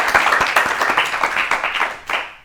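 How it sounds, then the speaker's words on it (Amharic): Audience clapping for two young quiz contestants at a children's TV competition, a brisk, dense burst of applause that fades out after a couple of seconds. "አጨብጭቡላቸው ለሁለቱም።"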